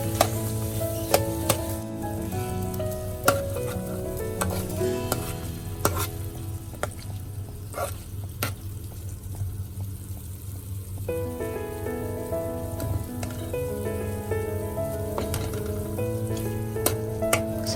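Chicken gizzards being stirred with soy sauce in a hot frying pan, sizzling steadily with a utensil scraping and clinking against the pan throughout, close and fairly loud, with no talking.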